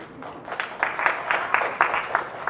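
Short, uneven clapping from a small audience at an indoor panel event, a quick run of close claps lasting a couple of seconds.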